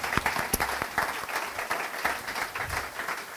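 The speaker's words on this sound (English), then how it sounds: "we say thank you, Jonas, with an applause" Applause from an audience at a panel event on sport and climate action, steady dense clapping with scattered sharp individual claps, filling the room for a few seconds.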